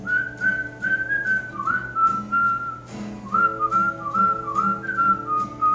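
A person whistles a wavering, sliding tune close up, phrases rising and falling with a brief pause midway, over a soft low background.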